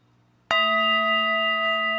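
A gong sound effect played on a live stream strikes once with a sharp attack after a near-silent moment. It then rings on, loud and sustained, with steady shimmering overtones that do not fade.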